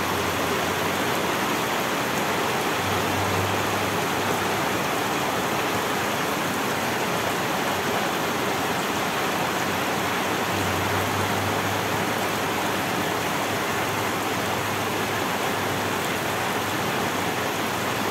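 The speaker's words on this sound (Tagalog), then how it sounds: "Lakas ng ulan, no?" Heavy rain pours down steadily, a dense unbroken hiss of water drumming on surfaces, loud and close, with a faint low hum beneath.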